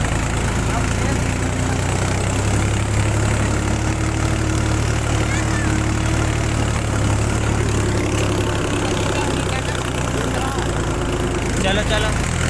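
A Powertrac 434 tractor, working with a harrow, runs its engine hard in a loud, steady, heavy diesel roar throughout, with voices speaking over it.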